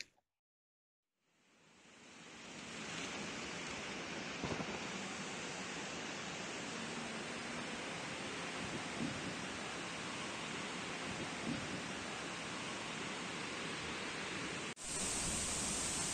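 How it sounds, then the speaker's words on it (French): Steady, dense roar of a waterfall heard from close by beside a cycling camp spot, a constant broadband rush that fades in at the start and holds without a break. "on est à côté de la cascade"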